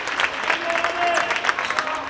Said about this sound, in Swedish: applåder kommer i vanlig ordning från publiken